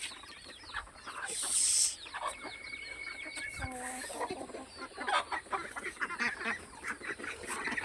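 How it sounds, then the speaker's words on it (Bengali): Ducks let out of their village house in the morning quack and honk in uneven, overlapping bursts close by, with a sharp clatter partway through and brief background noise. "তো এখন হাঁস ছাড়ে দিব"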